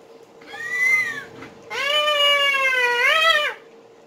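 A cat gives two close meows, a shorter rising call followed by a longer drawn-out, wavering one, loud and clear.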